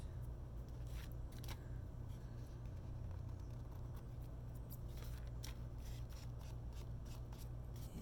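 Quiet, brief crisp snips cut through a steady low background hum, a few scattered cuts with no talking.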